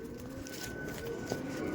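Rampuri pigeons in a loft coo softly in low, drawn-out calls, faint and muffled under steady background noise.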